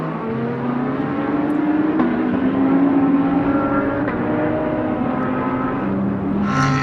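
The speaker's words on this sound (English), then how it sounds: "Jordan Pepper running third, but closing in his K-Pax Racing Lamborghini Huracan GT3 Evo" GT3 race cars, including a K-Pax Racing Lamborghini Huracan GT3 Evo, lapping the Sonoma circuit, with a steady loud engine drone throughout and a brighter rising note near the end as a car draws closer.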